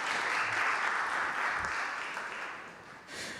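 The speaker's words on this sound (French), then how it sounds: "Vous pouvez les applaudir à nouveau, évidemment." A conference audience applauds steadily at a talk on reducing the energy footprint of housing, a dense, even wash of clapping, moderately distant and fading slightly before a brief swell at the end.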